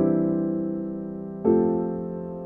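Sustained piano chords in a gospel jazz progression: one held chord rings and slowly decays, then a second chord is struck about halfway through and sustains, close and clear with no talking.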